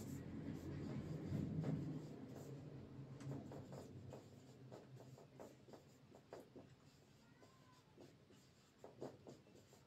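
Numbers written out by hand during an arithmetic lesson: a continuous run of close, scratchy writing strokes with small taps, with a faint voice in the background.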